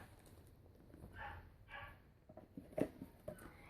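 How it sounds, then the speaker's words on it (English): A puppy gives a few faint, scattered barks and yips indoors, distant and quiet against a low background. "You'll have to excuse the dog barking."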